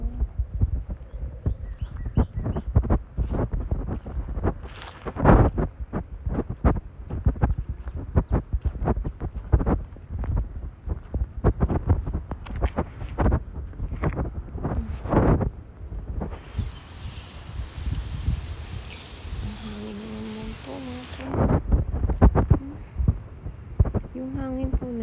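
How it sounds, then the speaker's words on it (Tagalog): Gusty wind blows outdoors in Texas, buffeting in low rumbling bursts of uneven rhythm, loud and close, with a voice heard briefly at times. "Yung hangin po na yan, normal lang dito yan. Hindi po bagyo yan."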